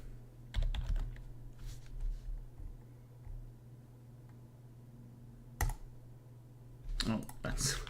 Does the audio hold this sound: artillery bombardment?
no